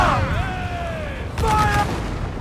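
Ship cannons fire in a naval battle game, a heavy boom landing midway under a shouted command, with a constant battle din underneath.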